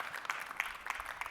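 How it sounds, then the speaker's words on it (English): A summit audience claps after a talk on cloud technology for traffic, with brief sparse handclaps in a quick, somewhat uneven rhythm at moderate loudness. "Let's give you a round of applause."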